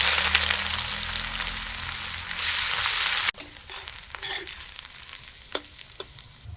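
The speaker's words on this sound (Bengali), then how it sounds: "পেঁয়াজ ভাজা হতে হতে আধা ঘন্টার উপরে হয়ে গেছে" Chopped onion fries in hot oil with dried red chilli, bay leaf, whole cumin and garam masala of cardamom, cinnamon and clove, a dense sizzle that drops suddenly, leaving quieter crackles and occasional stirring clinks.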